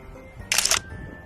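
A camera shutter clicks once as a selfie is taken, a short bright burst standing out over quiet background room tone.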